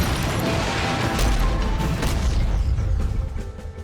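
Booming blasts and crashing debris from the turn-based game Jagged Alliance 3, a dense run of loud explosions swelling midway, then thinning into scattered clatter and fading rumble.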